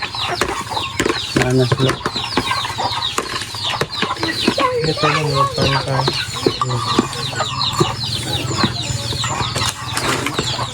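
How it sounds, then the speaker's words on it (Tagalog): Chickens cluck and squawk repeatedly in a rural province yard, close and fairly loud, with scattered wing flaps and people talking over and between the calls. "Ay, sa manok yan"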